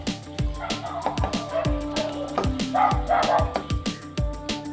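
Dogs bark repeatedly near a home kitchen, a steady run of sharp, close barks and yips with some whimpering, layered over kitchen noise throughout.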